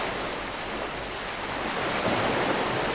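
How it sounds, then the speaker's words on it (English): Ocean waves wash in a continuous, fairly loud hiss of surf with no breaks, swelling slightly toward the end, and no voices. "Can you hear the sound of the waves?"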